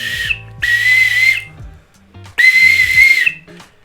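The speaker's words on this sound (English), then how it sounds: "let's do a real whistle" A real referee-style whistle blown in two long, loud shrill blasts separated by a short pause, with faint background sounds between.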